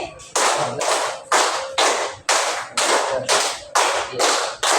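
A group claps in unison ten times at an even pace, two rounds of five crisp, sharp claps during a teacher-training session, each clap close and loud with brief gaps between.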